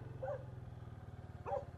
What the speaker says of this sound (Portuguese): só devagarinho que o cachorro não corre